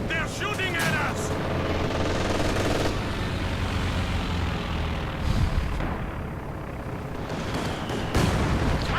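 A Soviet strafing run in a 1v1 strategy video game lays down continuous machine gun fire over a dense roar of battle noise, with explosions and gunfire that stay loud and steady throughout.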